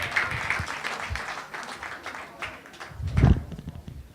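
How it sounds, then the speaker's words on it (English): A comedy club audience at Carolines applauds and cheers as a stand-up comedian is welcomed onto the stage, a moderate wash of clapping with a louder swell near the end. "Please welcome Ammon Brown to your stage, everybody. Give it up for Ammon Brown."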